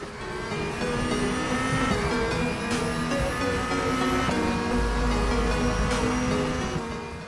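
DTM race car engine from a 2016 racing video game, revving loudly and steadily with gear changes as the car brakes late into a corner and accelerates out, continuous and close throughout.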